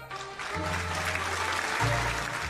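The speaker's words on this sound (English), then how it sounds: "Hundreds of people around applauding." Hundreds of people applaud at a royal celebration in the visual novel game Cinderella Phenomenon, a steady wash of clapping layered over sustained low music tones.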